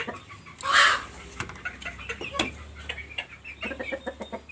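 Chickens clucking and chattering on a small farm where chicks are kept, with one louder squawking call early on, then scattered soft clucks and rustling at moderate distance.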